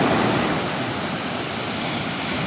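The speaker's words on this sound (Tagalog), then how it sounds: "paano tayo maliligo pagka ganyang kalalaki ang alon?" Big ocean waves crash along a shoreline, producing a continuous loud roar of surf with an even, unbroken wash of water and no voices.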